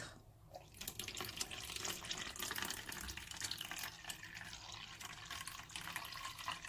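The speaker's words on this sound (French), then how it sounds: "Et maintenant, j'ajoute de l'eau jusqu'à obtenir 325 ml." Lukewarm tap water running into a bowl of olive oil for hamburger bun dough, a quiet continuous splashing stream with no talk.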